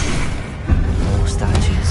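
Explosion from the Confringo blasting spell cast in Hogwarts Legacy on PS5: a pair of soft, muffled low booms about a second apart within a dense, steady wash of game sound.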